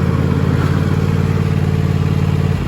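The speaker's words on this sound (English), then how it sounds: "Okay, now I'm going to turn the engine off." A Cub Cadet XT1 LT 46 lawn tractor engine idles with a steady, close mechanical rumble before cutting off abruptly near the end, leaving quiet.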